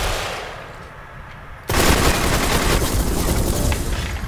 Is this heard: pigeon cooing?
no